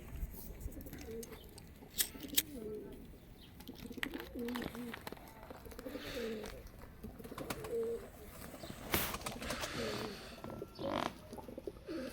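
Pigeons coo in low, repeated murmuring phrases throughout, scattered calls close by over a steady background hum, with occasional rustles and wing sounds in a loft of white breeding pigeons.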